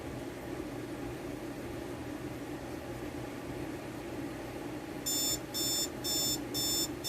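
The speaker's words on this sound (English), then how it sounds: "There's gentle alarm and high alarm, which is actually quite loud" A Timex T118B alarm clock sounds its alarm in a quiet room, four sharp bursts of rapid beeping in a regular rhythm that begin after a stretch of soft hum and fan-like background noise.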